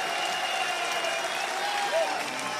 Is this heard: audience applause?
yes